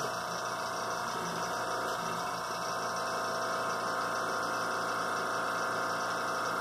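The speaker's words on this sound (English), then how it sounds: "While the compressor runs." An air compressor runs in a painting workspace while figure paint dries, a steady, fairly quiet hum holding unchanged from start to finish with no talk.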